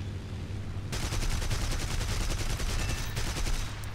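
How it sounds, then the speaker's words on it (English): Rapid cannon fire from a BF 109 F-1 fighter in War Thunder, a sustained burst of fast, evenly spaced shots over the steady drone of the aircraft's engine, loud and close with no talking. "we opened fire at quite a distance and our first burst of cannon shells actually didn't hit the target"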